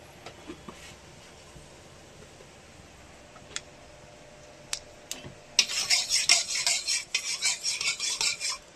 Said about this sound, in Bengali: দিয়ে দিয়েছে শুকনো লঙ্কা ফোড়ন, একটু সর্ষে ফোড়ন দিচ্ছে